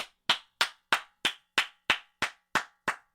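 Ten evenly spaced sharp claps in a row, crisp and moderately loud, each with a short decaying tail, like a sparse applause effect.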